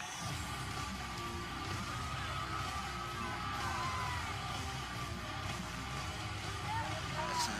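A large indoor crowd of fans at the 2015 Mr. Olympia bodybuilding contest yells and whoops continuously, a dense roar of voices with scattered shouts rising above it throughout.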